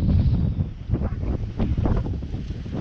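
Steady wind buffets the microphone at a cold fishing pier in a low, rumbling roar that swells and eases, with no voices.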